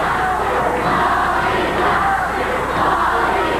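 A wrestling arena crowd jeers Paul Dangerously, a continuous loud roar of booing and shouting voices that holds steady without a break.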